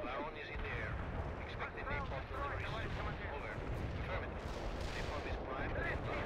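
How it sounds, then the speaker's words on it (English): Napalm strikes and battlefield fire rumble through a continuous, dense barrage of explosions and gunfire in the Cold War strategy game World in Conflict, with voices talking throughout. "We'll keep putting down napalm."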